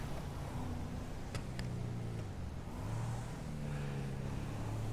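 A car drives in GTA V Online, its engine giving a steady low hum with slight pitch shifts throughout and no talking.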